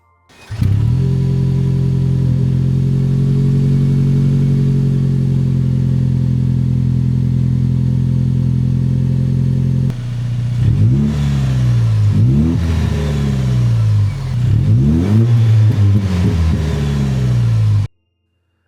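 A 2025 Toyota 4Runner TRD Pro turbo four-cylinder hybrid engine holds a steady loud drone, then revs repeatedly in rising and falling surges before cutting off; close and powerful.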